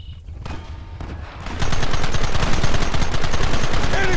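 Sustained heavy gunfire from a Red Dead Redemption firefight, a dense rapid volley of shots that builds after a short lead-in and stays loud and continuous throughout.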